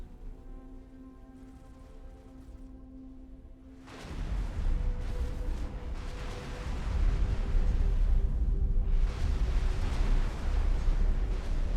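Explosion in the space game X4, a sudden loud rumbling boom that erupts after a quieter hum and keeps roaring with a broad, crackling wash before swelling again near the end.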